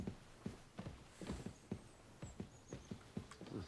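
Horse hooves clip-clopping in a video game, a steady walking rhythm of distinct close thuds repeating about twice per second, with no talking over them.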